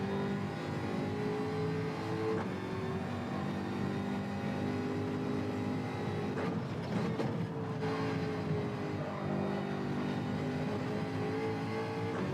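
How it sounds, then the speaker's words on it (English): A race car engine revving out at high rpm, a sustained droning whine with steady harmonics that shift pitch slightly midway, close and constant with no talk. "Letting it rev out again."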